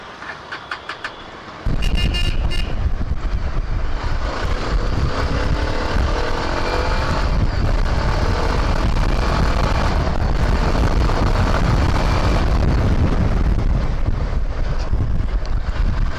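A Yezdi Adventure motorcycle runs loud and steady while being ridden, with heavy wind rush over the microphone, after a short quieter start.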